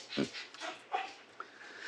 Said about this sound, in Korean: 강아지가 강의를 들으러 왔습니다